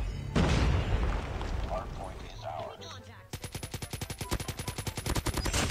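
Rapid automatic gunfire from a PKM machine gun in a shooter video game, a long loud burst of evenly spaced shots following a stretch of dense noisy combat sound.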